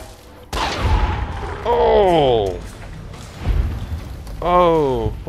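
Gunshots and heavy booms in the post-apocalyptic game Fallout: New Vegas, loud and close, with a voice speaking over the firing in between.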